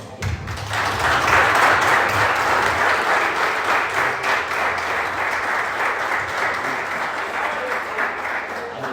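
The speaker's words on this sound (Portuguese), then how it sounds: "Uma salva de palmas." Church congregation breaking into applause after a blessing, clapping swelling quickly then holding steady and slowly thinning out, no speech over it.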